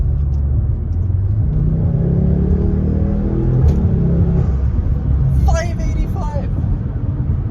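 A deep, rumbling stage 2 tuned Audi S7, 585 horsepower, idles steadily through its exhaust, with a few sharp crackles and pops breaking through near the end. Faint voices and background noise sit underneath.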